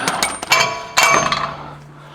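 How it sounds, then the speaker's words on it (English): Metal bolt being worked loose by hand from the axle of a 2025 Ford truck during a coilover and control arm installation, giving a few sharp clinks and clanks in quick succession, close and fairly loud, with no talking. "we'll be able to take the rest of this bolt out by hand"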